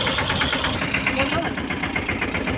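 A Yuvraj tractor engine runs steadily throughout, a continuous mid-pitched rumble with a slight knocking pulse during sowing in a field, close and loud with no pause.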